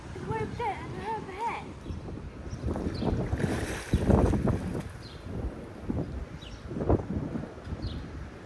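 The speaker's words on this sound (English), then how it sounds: "It's very windy tonight, but it's not too cold, is it?" Wind buffets the microphone in steady gusty rumbles, with people talking over it outdoors on a windy evening in Alykes, Zante, Greece.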